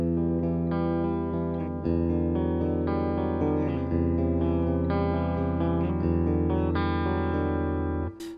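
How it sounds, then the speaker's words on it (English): Electric guitar played through a Paul Reed Smith amp with the reverb at about halfway and the presence raised, ringing out sustained chords and melodic notes with a washy tail, loud and continuous with no talking. "I'm gonna add some reverb in and bump the presence up a little bit to see what we get"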